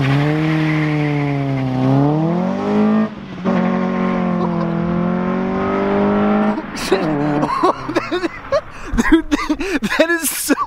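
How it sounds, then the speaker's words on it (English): Exhaust of a Honda Civic EG hatchback being revved, recorded from behind the car, with a sustained engine drone that rises and falls, then sharper blips and revs while people talk over it. "We're gonna give you a little bit of an exhaust clip from the back."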